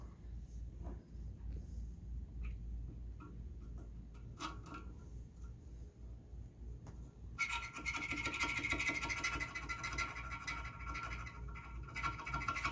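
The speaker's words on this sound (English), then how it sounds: "I like about the bead reamer is that it is a file" A bead reamer, used as a file while preparing a Jensen P15LL loudspeaker for installation, rasps close and loud in steady scraping strokes. It follows a quieter stretch of light handling and small taps.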